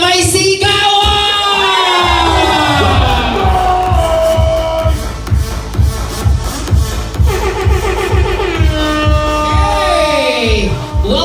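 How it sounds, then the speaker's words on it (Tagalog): Christmas party audience cheering and shouting in a loud crowd, with whoops rising over a rhythmic, pulsing beat and voices throughout. "Kung gusto nyo merry at happy ang New Year, pumalakpak na may sigawan!"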